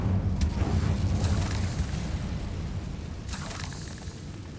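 An Incendio fire spell in Hogwarts Legacy bursts with a whooshing blast and rumbling roar, followed by two sharper crackling flares, fading into a low lingering rumble.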